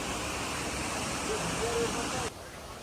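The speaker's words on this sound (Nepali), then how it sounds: "झर्ना देख्न सक्नुहुनेछ" A waterfall beside a mountain trail near Ghandruk, Nepal, gives a steady, dense roar of rushing water that fills the whole stretch and drops slightly in level near the end.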